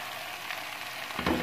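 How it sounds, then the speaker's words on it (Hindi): Onions fry in a pan with a steady close sizzle, and a brief scrape or stir near the end brings a louder burst. "हल्का सा इसको प्याज के साथ भूनते हैं।"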